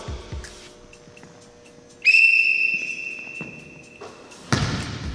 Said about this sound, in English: Green team, on my whistle.